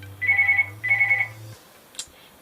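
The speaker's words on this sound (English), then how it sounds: "So my phone is ringing" A phone rings twice in quick succession, each ring a short trilling electronic burst, followed by quiet and a faint click.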